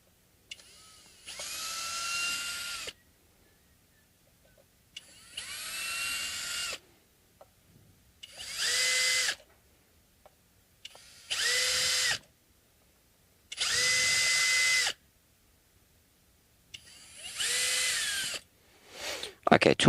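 A power drill drives screws into a Music Man Tim Commerford StingRay bass, whirring in six separate bursts of about two seconds each, with short quiet gaps between them, loud and close.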